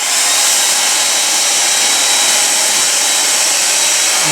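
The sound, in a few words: applying heat to memory metal, hair dryer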